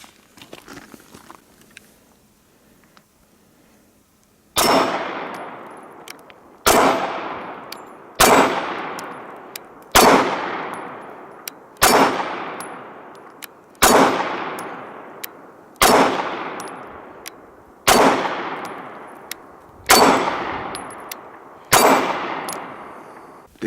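Eleven loud, sharp Heckler & Koch VP9 9mm pistol shots ring out after a quiet start, spaced about two seconds apart, each cracking sharply and then decaying with outdoor range echo.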